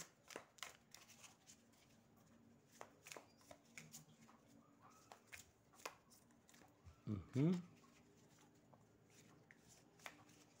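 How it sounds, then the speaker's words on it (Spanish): Soft, quick riffling of tarot cards being shuffled under quiet talk, ending in a brief louder burst of cards flicking together. "Así que vamos a barajar un poco."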